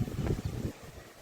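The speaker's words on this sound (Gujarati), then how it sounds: "એવો વાવાઝોડા જેવો જ પવન છે હો બાપા." Strong, storm-like wind gusts during heavy rain outdoors, a loud rumbling roar buffeting the microphone, heaviest at first and then easing slightly.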